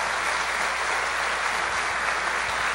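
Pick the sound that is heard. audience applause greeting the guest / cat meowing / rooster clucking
audience applause greeting the guest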